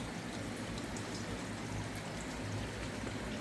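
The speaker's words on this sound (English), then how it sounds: "this creek comes up through here and then bends" Creek water bending through a rocky bend, trickling and burbling in a steady, close wash that continues without a break and has no voices over it.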